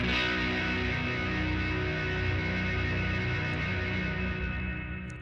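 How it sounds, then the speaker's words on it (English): A dense, sustained wash of guitar reverb from a Dark Star Stereo reverb pedal's hold function hangs frozen in place, steady and unchanging, a thick droning chordal pad with no attack or decay. "our hold function, which will just kind of freeze your reverb behind you"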